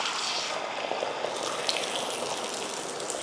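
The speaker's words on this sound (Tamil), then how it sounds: "இப்போ கலந்த முட்டையை ஊற்றிடலாம்." Beaten egg poured onto a hot, oiled dosa tawa for an omelette gives a steady, close sizzling hiss that holds evenly throughout with no pauses.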